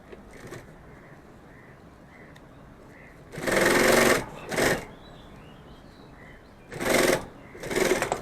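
A sewing machine stitches cloth for a fabric pen pouch in two loud, close bursts of rapid whirring separated by a quiet pause, then stops, with soft handling noise in between.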